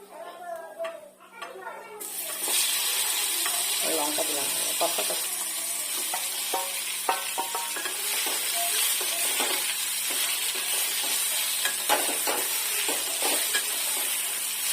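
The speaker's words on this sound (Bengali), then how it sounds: "নাড়বো চালতাগুলোকে" Elephant apple (chalta) pieces fry in hot mustard oil with five-spice seeds in a wok, crackling steadily as a utensil stirs and scrapes with occasional clinks, after a brief quieter opening.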